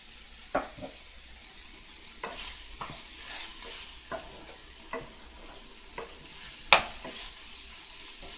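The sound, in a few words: ground beef frying and sizzling in a pan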